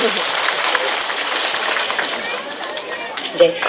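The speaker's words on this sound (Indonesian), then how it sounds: "tepuk tangan dulu buat sound systemnya" Audience applause for the sound system operator at a large outdoor Islamic religious gathering in Central Java, loud, dense clapping close by that holds steady, with voices murmuring underneath.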